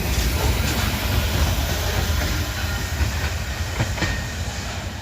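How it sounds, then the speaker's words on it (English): Freight train with grain hopper cars rolling past in Abbeville, South Carolina: a loud, steady rumble and hiss with faint rhythmic wheel clicks over joints, close by and continuous. "These two are grainers."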